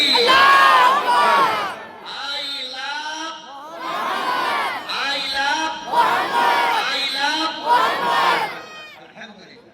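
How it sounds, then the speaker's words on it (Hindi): A crowd at a religious gathering in Sahebganj, Jharkhand shouts the slogan Nara-e-Takbeer in several loud, chanted bursts of many voices, separated by brief dips. "भाई एक बार नारा लगा दो जरा, नारे तकबीर"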